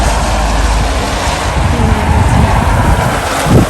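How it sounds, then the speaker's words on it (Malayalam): Strong wind blowing during a snowfall in Scotland roars steadily into the microphone, loud and close, a constant rushing buffet with no pauses and no talk. "നല്ല കാറ്റ് വീശുന്നുണ്ട് കേട്ടോ."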